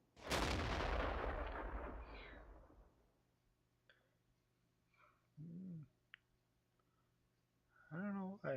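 A tank destroyer's cannon in World of Tanks, the French tier VI ARL V36, fires one loud, booming shot that rolls off over about three seconds, followed by quieter game sounds and brief talk.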